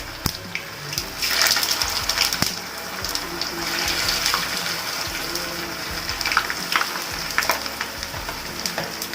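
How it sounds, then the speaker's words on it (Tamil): Vegetable Manchurian balls deep frying in hot oil over a high flame, a dense, steady sizzle and bubbling with small pops and crackles, close up and continuous throughout. "இந்த வெஜிடபிள் பால்ஸ்லாம் எடுத்து நம்ம போட்டப்போ நல்லா இன்னொரு வாட்டி நல்லா டீப் ஃப்ரை பண்ணிட்டு போகிறோம்"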